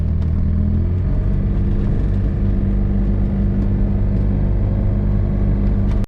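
A Microcar MGO Paris microcar, a 2005-era license-free car, accelerates with a loud, steady engine drone and rumble that holds the whole time, with no talk.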